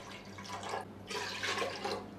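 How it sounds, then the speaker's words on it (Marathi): Water poured onto washed toor and moong dal in a pot, a steady splashing pour in two bursts with a short pause between, fairly close and clear, no talking. "आता यामध्ये ना आपल्याला 3 वाट्या पाणी घालायचं आहे."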